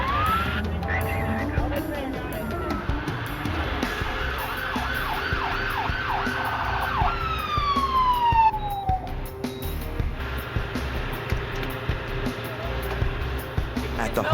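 An ambulance siren wails, rising and falling over busy traffic and street noise, with a sustained swooping tone near the end and voices underneath.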